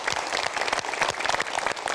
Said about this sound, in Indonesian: Boleh beri tepuk tangan dong